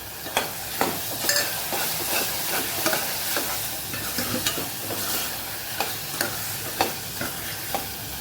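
Rice, spices and biryani masala stirred together in a frying pan for masala rice: continuous close sizzling with regular clinking spoon scrapes every half second or so.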